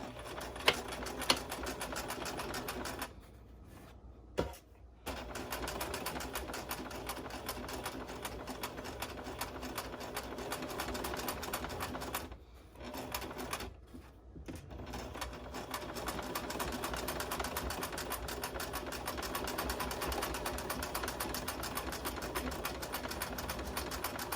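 A sewing machine stitching a seam on a garment sample, running in a steady close whir with brief pauses between runs and no talking.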